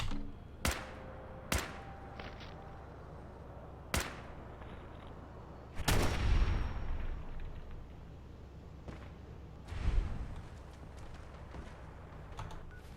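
Gunfire in the video game Fallout 4 on PC: a few sharp, isolated shots spaced a second or more apart, then a louder burst with a rumbling tail and another later thump, moderately loud with no talk.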